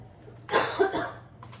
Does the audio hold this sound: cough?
yes